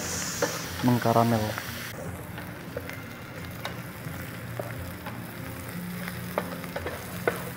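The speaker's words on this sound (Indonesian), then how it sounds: "Kita biarin jamurnya sampai agak mengkaramel." Mushrooms sizzle and crackle steadily in a hot pan as they caramelize, with a brief voice and a few clinks of a utensil near the start.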